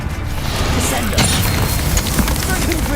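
A Descendo spell impact in Hogwarts Legacy hits with a heavy slamming boom amid grinding, rumbling combat effects, a loud dense clash with a voice speaking over the action.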